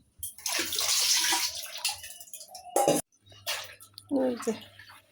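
Water splashes and drips in bursts as soaked vegetables are washed by hand, with a low hum and voices talking in between.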